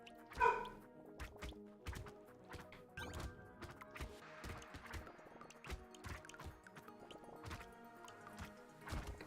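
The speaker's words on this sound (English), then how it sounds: "The pupper is barking at someone that is walking by." A dog gives a quick bark or two near the start, fairly faint, followed by quiet clicks, knocks and game sound effects with no talking.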